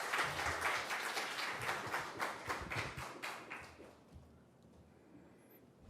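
A church congregation at a Sunday worship service claps to welcome the pastor and his wife. The applause is dense and fairly distant, then fades out into a quiet room.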